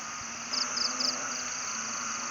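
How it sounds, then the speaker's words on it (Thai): Soft, rapid croaks from a few frogs come in short bursts over a steady wash of rain and night noise at a Buddhist site in Chae Hom, Thailand. "เสียงธรรมชาติ อึงอ่างร้องระงม"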